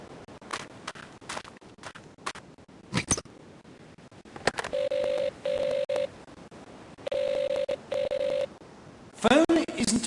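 A telephone is dialed in a period mystery drama: scattered clicks, then two pairs of even DTMF tones, then a short burst of higher tones, with speech mixed in.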